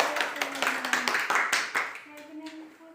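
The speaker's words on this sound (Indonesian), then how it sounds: "Tepuk tangan dulu untuk kita semua." Hands clap in a classroom during a teaching practice lesson, a short uneven burst of claps from a small group that fades over three seconds, with voices talking over it.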